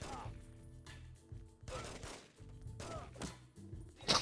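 Video game gunfire in The Getaway, with repeated bursts of shots and thuds among loud game sounds, and a player talking over parts of it.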